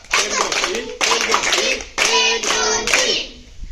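Children in a school mindfulness exercise clap their hands in rhythmic bursts, loud and close, with a pause between groups. Young voices chant along throughout the clapping.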